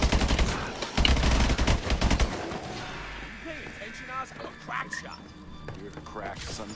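Rapid gunfire bursts in Call of Duty Advanced Warfare Exo Zombies, dense automatic shooting for the first couple of seconds, then sparser shots and game effects while players talk.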